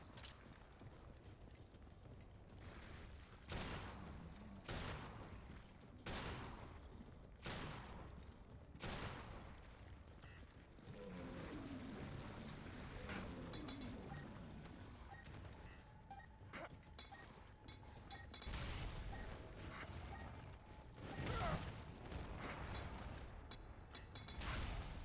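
Grenade explosions go off again and again in a Resident Evil Revelations raid mode battle, loud repeated blasts and crashes spread over about twenty-five seconds amid busy game noise.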